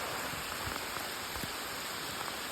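Heavy tropical rain falls on Borneo, a continuous broad hiss dotted with a few nearby drops striking a surface, steady and unbroken with nobody talking.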